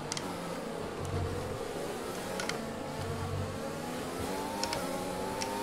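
An F1 car engine roars steadily in the F1 2020 racing game during a British Grand Prix at Silverstone, droning continuously at close range with slight pitch rises and a few brief high-pitched ticks.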